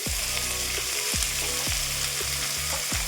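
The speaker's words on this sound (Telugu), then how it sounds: "ముందుగా బాండిల్ పెట్టుకొని ఆయిల్ వేసానండి. దాంట్లో ఉల్లిపాయ ముక్కలు వేస్తున్నాం" Onion pieces fry in hot oil in a pan as the first step of a chilli chicken fry, a continuous close sizzle broken by regular scraping stirs about every second.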